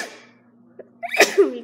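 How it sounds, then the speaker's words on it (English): A single close, forceful human sneeze bursts out after a short, nearly silent pause and a faint intake, then trails off quickly. "I have to sneeze, hold up."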